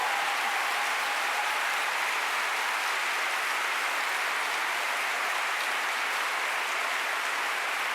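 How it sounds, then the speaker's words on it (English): An audience at a talk on women, race and class applauds in a dense, sustained wash of clapping that stays loud and even for the full stretch, with no voices over it. "men in the audience should stand up and applaud"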